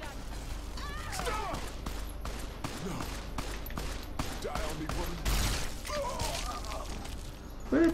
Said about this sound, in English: Where are these gunshots coming from?